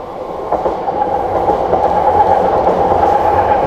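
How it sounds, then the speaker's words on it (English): A train rolls past close by at night, a loud continuous rumble with rhythmic clickety-clack of wheels on rail that steadily builds in strength. "the trains can come from either direction then on the other side"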